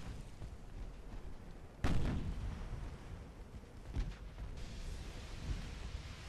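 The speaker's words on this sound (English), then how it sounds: "Ammo detonation." A ship's ammunition detonating in Ultimate Admiral: Dreadnoughts, heard as one sudden, heavy blast that rolls off into a long rumble, followed by a few fainter distant booms.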